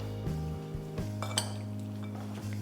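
Crab stuffing with ricotta and truffle salt being mixed in a bowl, a few clinks and scrapes of a utensil against the dish over a low steady background hum.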